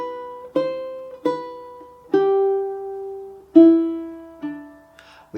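Fingerstyle ukulele picks out the melody of Sigh Waltz, a handful of single plucked notes spaced apart, each ringing and decaying, close and clear with no talking.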